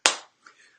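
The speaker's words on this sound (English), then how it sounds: "I'm clapping along." A single sharp hand clap rings out at a food court at Disney's Pop Century resort while a pop song plays, followed by a couple of faint softer taps in a quiet space.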